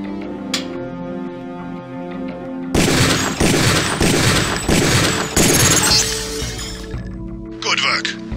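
Rifle fire at a training range in Deus Ex: a rapid series of loud, close cracks arrives after a quiet tonal stretch and lasts a few seconds, then fades back to a steady background.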